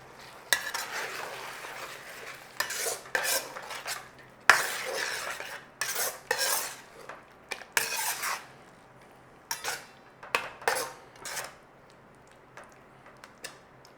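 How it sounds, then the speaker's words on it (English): Thick cashew paste cooking in a pan for a cashew chicken dish, stirred with a utensil in repeated scraping strokes and clinks against the pan, close and fairly loud, with a quieter sizzle underneath and no talking. "when you add the cashew paste, you've always got to remember to give it a stir"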